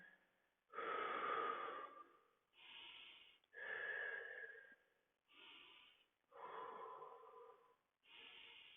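Slow, deep breaths drawn while holding a wide-kneed inner-thigh stretch with hands on the floor, about five audible inhale-exhale cycles close to the mic, each a soft airy rush separated by brief pauses.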